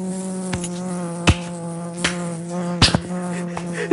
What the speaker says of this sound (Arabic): بروبليم الناموس كثر بزاف في الصيف